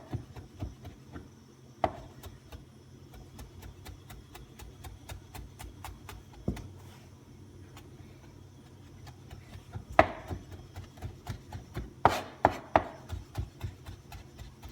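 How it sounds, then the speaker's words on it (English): A single garlic clove is finely minced with a knife on a board, producing quiet, rapid, irregular tapping chops that cluster into louder bursts toward the end, with no voices. "I'm only going to use 1 clove of garlic. That's it. Finely minced garlic."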